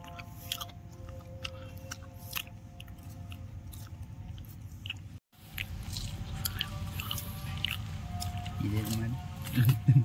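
Someone chews a tender wild date palm shoot close by, soft wet crunching and squishing bites running steadily under an outdoor hum, with a short pause midway and louder bites near the end.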